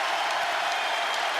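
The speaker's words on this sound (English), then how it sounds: "And listen to this crowd." A basketball arena crowd roars and applauds after a Gators timeout in a college game, a dense steady wash of cheering and clapping that holds at an even loud level without a break.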